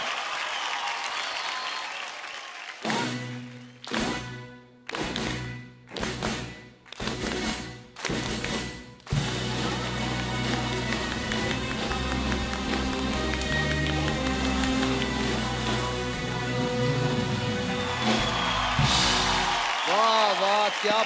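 A studio audience at a singing talent show claps in a distinctive patterned rhythm, several sharp bursts of loud unison claps separated by pauses, then breaks into sustained applause and cheering with music under it.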